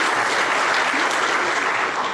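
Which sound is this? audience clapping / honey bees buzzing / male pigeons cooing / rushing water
audience clapping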